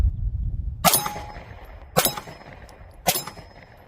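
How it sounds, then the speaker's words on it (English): Three pistol shots from a handgun with a CVLife WolfCovert green reticle sight strike an A-zone steel silhouette target downrange, each a sharp crack followed by a ringing metallic clang, spaced about a second apart over low outdoor rumble. "We're only going to do 3 on that A-zone silhouette steel target down there."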